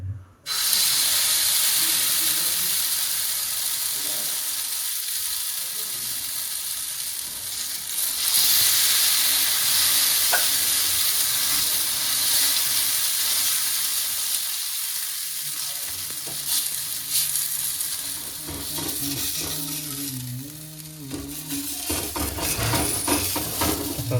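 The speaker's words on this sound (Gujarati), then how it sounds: "પણ અમારી જોડે તેલ છે તો અમે તેલથી પરોઠા બનાવી લઈશું" Spinach parathas fry in oil on a pan with a steady, loud sizzle throughout, broken by brief stirring and clattering handling sounds.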